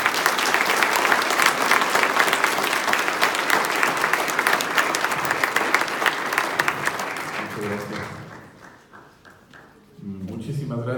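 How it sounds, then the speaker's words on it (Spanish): Dense, sustained applause from a conference audience greeting a paleontologist opening a talk on Mexican dinosaurs, steady for about eight seconds before thinning out, with a voice starting to speak near the end. "Recibámoslo con un fuerte aplauso nuevamente"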